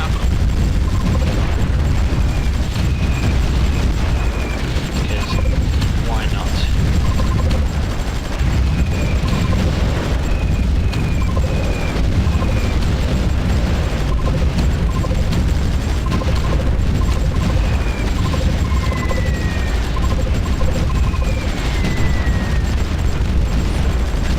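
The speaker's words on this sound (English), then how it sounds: "Explosions and the little things going on when we capture stuff" Continuous loud soundscape from the strategy game Supreme Ruler Ultimate, with a constant rumbling bed of explosions and small pops, scattered electronic beeps and chirps layered on top.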